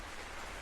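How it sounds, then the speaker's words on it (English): Soft, steady rain falls as a continuous even hiss, spread evenly over the short stretch with no voices or other sounds. "The rain sounds are still falling, soft and steady."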